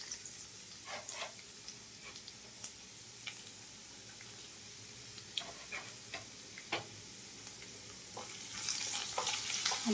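Chopped ginger frying in hot oil for a homemade Szechuan chutney, a quiet, soft sizzle with sparse ticking pops and occasional stirring taps, swelling louder near the end.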